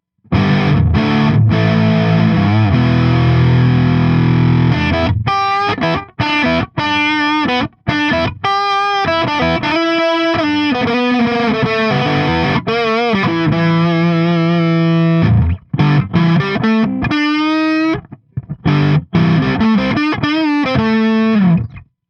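An electric LP-style guitar on the middle pickup position plays a distorted riff with chords and single notes, loud and close, with brief pauses between phrases.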